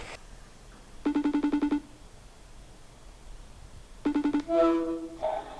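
A phone rings out while a call is placed to a friend: two separate bursts of rapid, evenly pulsed electronic ringing tones, the second cut short as a voice answers.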